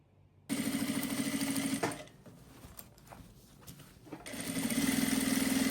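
A sewing machine stitches crossbody bags in two fast, rattling bursts, loud and close, separated by a quieter stretch of handling noises.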